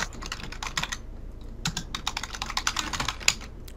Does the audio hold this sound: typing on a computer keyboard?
yes